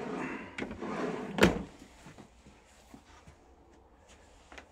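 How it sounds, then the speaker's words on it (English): A cabinet drawer in a compact two-berth motorhome slides and shuts with a sharp knock, soft rubbing and scraping before it and a few light clicks afterward, close and fairly quiet. "Crazy drawer."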